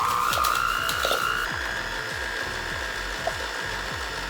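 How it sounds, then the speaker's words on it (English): An electric mixer creams monk fruit sugar and butter together, its motor whirring steadily while the beaters churn out a fast, regular low thumping pulse, close and continuous. "now we're gonna cream the sugar and butter together"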